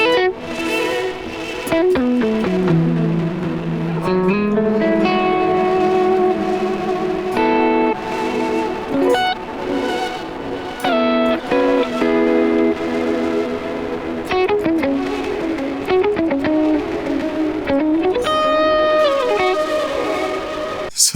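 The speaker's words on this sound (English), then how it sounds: "it'll take like a second and then the delay will just be like super distorted" An instrument plays through a heavily distorted delay, its repeats smearing into gritty, broken-sounding echoes that pile up continuously and loudly.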